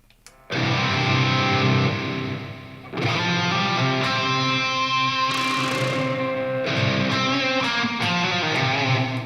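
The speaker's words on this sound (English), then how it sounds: "You could use the diffuser in the multi-band delay to do a kind of faux reverb thing." Synth tones run through a multi-band delay with its diffuser set for a faux reverb, giving sustained, smeared wash-like notes that swell and trail off in long phrases, alone and fairly loud.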